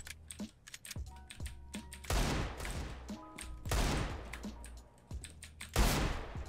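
Gunfire in the CS:GO video game sounds as several loud, sharp bursts of rapid shots spread across the clip, mixed with quick clicky keyboard tapping in between, with no talking.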